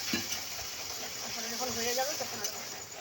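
Wild puffball mushrooms fry in a pan as water goes in and gets stirred, a steady hiss and sizzle with soft scraping, while a voice talks over it.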